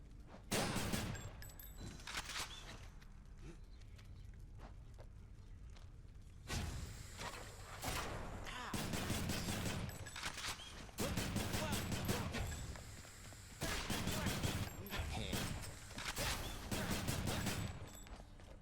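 Exogryph, the Adamant Rail, fires in the video game Hades, in several loud bursts of rapid gunfire separated by short pauses, with dull thuds in between.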